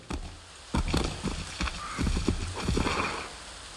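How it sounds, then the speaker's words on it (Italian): A video game horse runs in Assassin's Creed 3 Remastered, its clip-clopping hooves beating in quick uneven bursts with a whinny mixed in against an outdoor frontier ambience, and no one speaking. "Cavallo impazzito."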